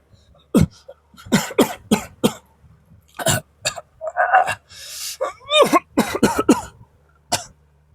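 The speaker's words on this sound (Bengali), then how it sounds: "এক পশলা দম বন্ধ করা কাশি শুরু হলো তার" Harsh, choking coughs come in a rapid burst with gasps and throat clearing between them, close and loud, a sound effect in a Bengali horror story.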